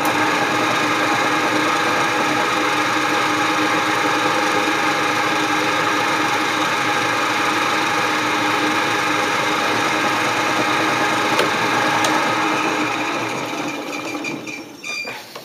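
A metal lathe runs with a steady, even mechanical hum and whine for a long stretch, easing off slightly near the end; no one speaks.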